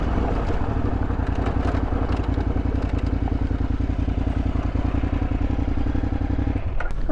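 A motorcycle cruising on a road at around 120 km/h in Morocco, a loud, steady engine drone with rapid firing pulses and wind buffeting, heard from the rider's position and easing off near the end.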